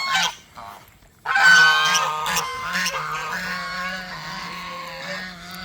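Geese honking loudly and repeatedly, several harsh calls overlapping in a noisy, continuous chorus close by.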